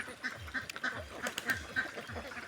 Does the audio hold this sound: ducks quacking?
yes